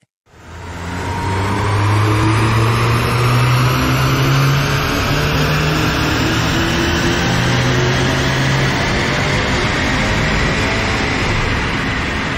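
A remapped BMW 330e 2.0 plug-in hybrid runs a full power pull on a dyno, its engine drone loud and sustained, climbing steadily in pitch for over ten seconds.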